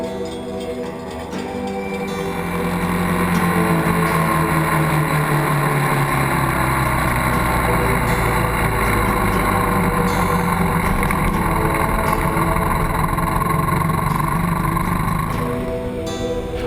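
An old steam engine more than 120 years old runs at a historic mine near Granite, a loud, steady mechanical roar and drone that holds unbroken for the whole stretch.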